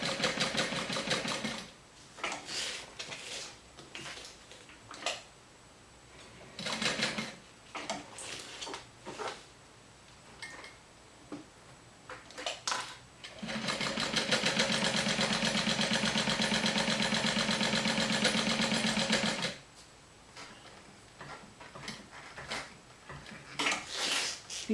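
A sewing machine hums in steady bursts while stitching a zipper pocket rectangle at 2.5–3 stitch length, with a long continuous run in the middle and short starts and stops around it.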